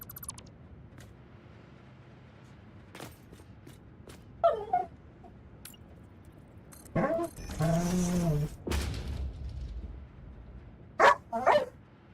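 A dog barks several times in scattered bursts, including a longer volley, moderately close in an otherwise quiet room.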